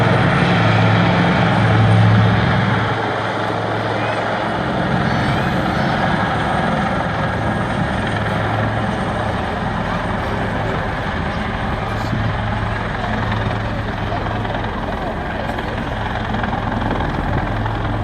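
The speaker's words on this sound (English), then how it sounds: "it's the only formation of aircraft you'll see today going backwards in formation at 50 miles an hour" Helicopters of the Black Cats naval display team flying backwards in formation at about 50 mph at an air show, a continuous loud rotor and turbine roar heard steadily from a moderate distance.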